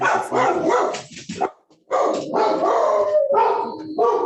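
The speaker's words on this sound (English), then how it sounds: "Someone who has a barking dog" A dog barks loudly and repeatedly in close, rough bursts over an open line on a webinar call, with a short pause in the middle before the barking resumes.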